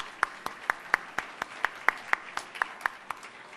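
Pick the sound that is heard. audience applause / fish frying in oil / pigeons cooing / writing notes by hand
audience applause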